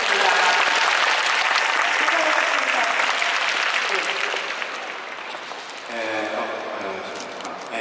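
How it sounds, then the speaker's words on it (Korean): Applause from the audience at an open talk for the film Good News at the 30th Busan International Film Festival, dense, loud and continuous clapping that gradually eases, with a voice speaking over the later part. "박수 부탁드리겠습니다."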